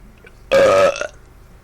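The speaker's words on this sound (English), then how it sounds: "So, Fox News, this belch is for you." A single loud, deep belch bursts out close by, holding for about half a second before trailing off into a brief, softer tail against a quiet room.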